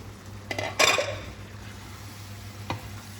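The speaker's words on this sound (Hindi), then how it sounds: "देखिए कितने अच्छे से ये पक रहा है चिकन हमारा" Chicken for a quick Indian chicken curry being stirred in a hot pan, a few bursts of scraping and sizzling with a clatter of the spoon against the metal, then a quieter steady sizzle and one more brief knock.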